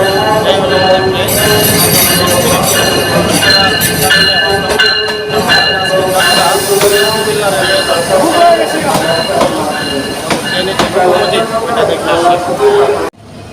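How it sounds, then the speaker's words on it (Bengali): The Mahanagar Provati Express rolls into a station on the Dhaka to Comilla route, a loud, continuous rumble of wheels and carriages with a brief squeal partway through, while people talk nearby. "ফাইনালি আমাদের সেই চট্টগ্রাম মহানগর প্রভাতী এক্সপ্রেস প্রবেশ করতেছে।"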